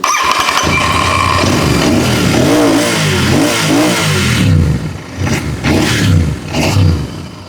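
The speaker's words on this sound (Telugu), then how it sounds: "సో ఇప్పుడు ఒకసారి బండి ఎగ్జాస్ట్ నోట్ విందాం." Stock exhaust of a Royal Enfield Interceptor 650 motorcycle, starting up, idling with a steady thump and then blipped through several loud revs that rise and fall, close to the bike.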